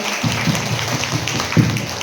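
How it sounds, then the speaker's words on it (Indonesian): Students in a school classroom clap together, a loud, slightly uneven patter of hands with a few heavier claps and a faint voice underneath. "tepuk tangan untuk kita semua"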